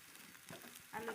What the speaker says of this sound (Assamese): মছলা, জিৰা, ধনিয়া গুড়া, জালুক সকলো মিক্স আছে। অলপ দেৰি ভাজি থাকিম এনেকৈ।